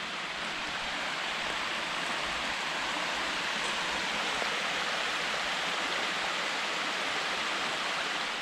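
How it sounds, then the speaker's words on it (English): Steady broadband rushing of water pouring over a river weir, continuous at moderate distance, an even hiss with no pauses or voices. "Got a little weir here on the river."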